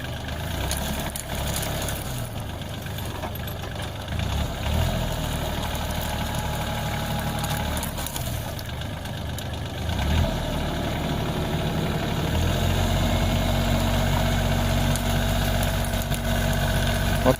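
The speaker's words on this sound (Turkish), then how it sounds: "Дизель водяное охлаждение." A water-cooled diesel engine idles nearby with a steady, low, rumbling chug that swells slightly in loudness partway through, with faint background noise but no clear talk.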